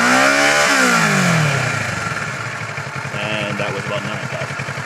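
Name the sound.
Kawasaki Ninja 650 motorcycle engine revving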